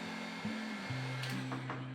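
A household hair dryer runs steadily while heating wood glue on miniature dollhouse shingles, a constant whirring hum that drops in pitch as the speed setting changes.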